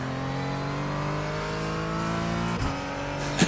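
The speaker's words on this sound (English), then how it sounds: "God, it's fun accelerating out of a corner" A Porsche 718 Cayman GT4 accelerates out of a corner in the iRacing sim, its engine note rising in a steady, loud rev with a brief gear-change dip and a bump near the end.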